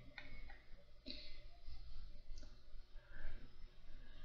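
Sharp mouse clicks in a quick pair, then a few more scattered taps, close and fairly quiet over a low room hum while installing Wampserver on a computer.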